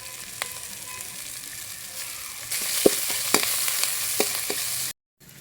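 Onion, green chili and ginger garlic paste fry in a pan with a steady sizzle that swells louder midway, punctuated by sharp stirring clicks before cutting off.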